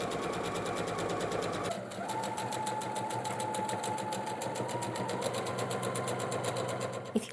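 A sewing machine stitches a dress bodice with a fast, continuous mechanical whir and rapid needle ticking, pausing briefly before running on steadily at close range.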